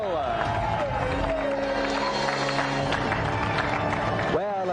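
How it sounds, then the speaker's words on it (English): A studio audience on the 1994 TV games show GamesMaster applauds in a steady, dense wash throughout, with music and a presenter talking over it. "let's have another round of applause for Tom and Daniel."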